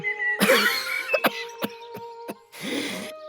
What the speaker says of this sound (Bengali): বাঘ হুঙ্কার দেওয়ার চেষ্টা করে কাশতে শুরু করে